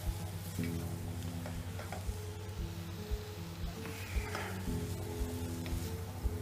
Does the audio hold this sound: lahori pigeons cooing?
no